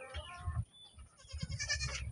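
Goats bleat repeatedly on a farm, with a chicken mixed in among them, several close, wavering calls overlapping in short bursts with farmyard background.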